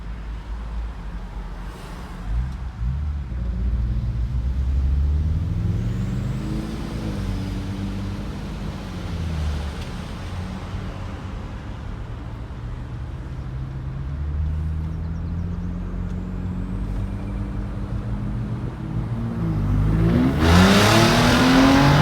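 A truck fitted with aFe equal-length catless downpipes revs hard in sport mode, heard from inside the cab as a loud, rising and falling engine drone that climbs through several surges, with a brief sharp burst near the end.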